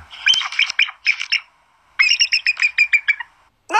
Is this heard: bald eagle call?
yes